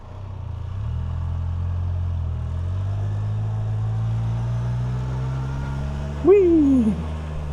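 A Can-Am Canyon three-wheeler climbs 3rd Street Hill in first gear, its engine drone holding steady and close for several seconds before a brief rising whoop of a voice near the end.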